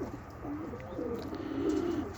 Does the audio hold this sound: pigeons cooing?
yes